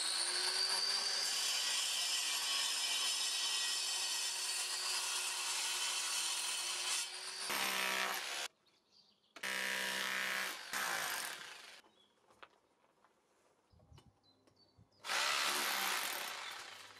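A power saw cuts ventilation openings into an old, once-damp chimney, with a long steady cutting run followed by several shorter bursts separated by brief quiet gaps.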